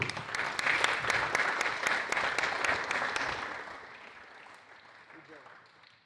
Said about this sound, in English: In third place, a round of applause please for Essa Al-Hamadi.